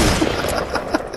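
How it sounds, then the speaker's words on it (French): Gunshots in Fortnite Battle Royale, several quick cracks close together over steady game noise, with a louder report near the end of a short burst. "Je t'ai tiré dessus."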